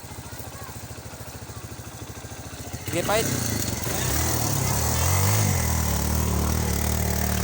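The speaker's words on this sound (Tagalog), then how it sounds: "Ito pagid may motor" A motorcycle engine on a muddy rural road, first a close rhythmic idle putter, then revving louder and rougher as it moves off, with people talking over it.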